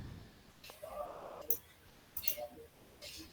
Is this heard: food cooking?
no